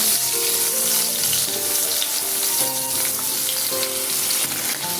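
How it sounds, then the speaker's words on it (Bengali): Drumstick pods stir-fried in oil left from frying potatoes give a loud, steady sizzle with occasional stirring scrapes, filling the whole stretch without any talk. "আলু ভাজার তেলে সজনে ডাঁটাগুলোকে হালকা নাড়াচাড়া করে তুলে রাখছি"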